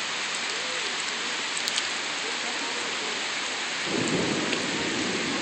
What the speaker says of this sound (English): It's gonna keep raining